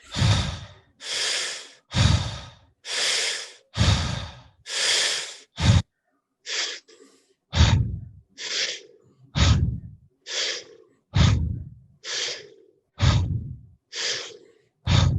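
Deep breaths in a guided breathing exercise, a steady series of loud, close inhales and exhales repeating roughly every second, sharp breathy rushes with short gaps between them and no talking.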